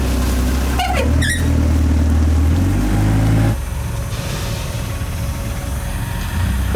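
A lorry engine rumbles loudly at close range in a busy builders' yard, its deep steady drone running for about three and a half seconds before dropping to a quieter idle, with a brief squeak near the start.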